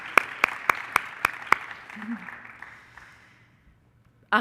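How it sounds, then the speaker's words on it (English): A handful of people at an honor society induction clap for their families: a few sharp, distinct claps in a steady rhythm that thin out and fade into quiet, with a brief voice near the end. "can you give your family a round of applause, please?"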